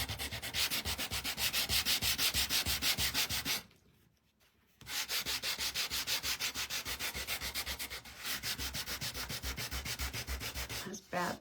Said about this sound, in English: Okay, get this one sanded up.